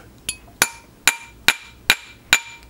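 Hammer blows on a metal ring being shaped over a revolver ring mandrel: six sharp, ringing metallic strikes at a steady rhythm, close and loud, with no talk.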